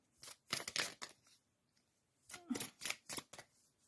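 Tarot cards being shuffled by hand in two quick bursts of riffling and slapping, close and fairly quiet with a pause between.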